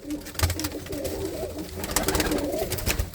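Pigeons coo in a short, close burst of soft, throaty calls repeating over and over, with no voices.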